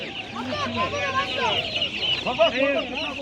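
Chickens cluck steadily in a busy Turkish poultry market with chicks and ducklings for sale, with overlapping bird calls and a constant background hum, moderately loud and close.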